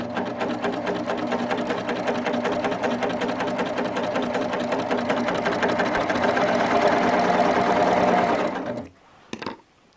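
A Baby Lock Applaud sewing machine stitches at a fast, even rhythm, running loud and close for about eight seconds before it stops abruptly. A couple of faint clicks follow the stop.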